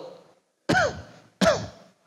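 A voice clears its throat twice in quick succession, two short throaty bursts separated by a brief pause, imitating the sound.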